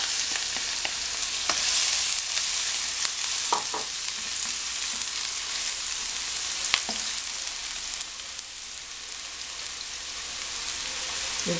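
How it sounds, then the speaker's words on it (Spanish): Onion and bell pepper frying in vegetable oil, a steady close crackling sizzle with scattered sharp pops and clicks throughout, no voices. "Aquí hemos colocado aceite vegetal para sofreír las cebollas y el pimentón."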